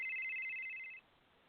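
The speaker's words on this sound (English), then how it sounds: "Oh, I hear our phone ringing." Telephone ringing with a single electronic ring tone, one short steady burst that cuts off after about a second, faint and alone with no talk.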